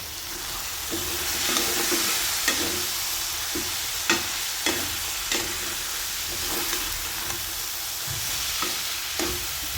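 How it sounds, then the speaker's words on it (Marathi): Pulao masala for a whole masoor lentil pulao, with a little curd, is stir-fried in a wok. It gives a steady loud sizzle with repeated scraping stirs at a loose rhythm, and no talk. "हे आता 2-3 मिनिटं आपण परतून घ्यायचं आहे"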